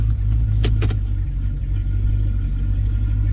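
An AWD HEMI car rolls slowly, its deep low engine rumble steady and close, with a couple of brief sharp knocks early on.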